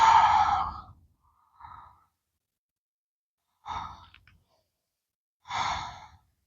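Slow, deep breaths during a yoga Malasana squat: a long exhale, a faint short breath, then two more unhurried exhales separated by quiet pauses, close and alone.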